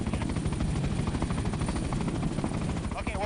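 A news crew helicopter in flight, its rotor thudding loudly and steadily throughout, a constant close roar that fills the whole stretch.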